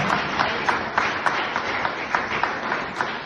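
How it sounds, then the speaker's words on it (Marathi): Guests are applauded by a crowd at a one-day state-level chess tournament for visually challenged players, a dense, steady wash of clapping with regular louder claps throughout. "तो त्यांच्यासाठी जोरदार टाळ्या वाजवल्या पाहिजे."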